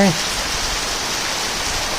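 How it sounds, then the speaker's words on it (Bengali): Heavy rain pours down in Chandraghona, a dense, even hiss filling the air without a break, loud and close. "একেবারেই রোমাঞ্চকর বৃষ্টি হচ্ছে"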